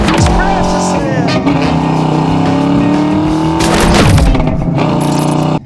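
A 1991 Ford Mustang LX hatchback with a 5.0 V8 and five-speed manual drones loudly on a test drive, its pitch rising and falling through gear changes, with someone talking over it.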